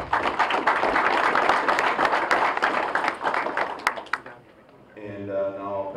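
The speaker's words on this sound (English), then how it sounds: "give yourself a round of applause for a great year of training" Sustained applause from an audience at an award ceremony, dense and steady, fading out near the end before a voice begins speaking.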